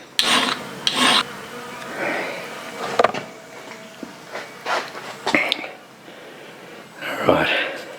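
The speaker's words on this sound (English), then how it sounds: "down to using my needle files again. Slow work" A spoon being cold-worked into an arrowhead with needle files, heard as short close rasping strokes in uneven bursts separated by pauses, with a voice talking at times.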